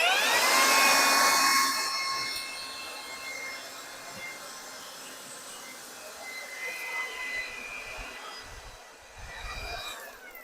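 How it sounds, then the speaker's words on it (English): A cordless LIVOWALNY leaf blower running on a Makita battery gives a steady airy whine that eases after a louder start and stays close, with faint outdoor background noise and no talking. "I blew all these leaves off my patio over into this pile over here."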